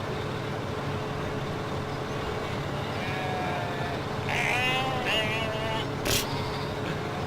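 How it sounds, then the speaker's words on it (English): Sheep bleat in a farming video game, a few wavering calls clustered near the middle of the clip over a steady low background hum, followed by a brief sharp click. "hear those animals? Okay. Sheep."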